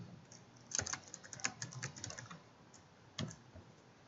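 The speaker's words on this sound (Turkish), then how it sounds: "okul bilgileri kısmına girip tekrardan okul adını yazıyorum" Quiet typing on a computer keyboard, a run of light irregular key clicks with a few sharper taps, close by and alone.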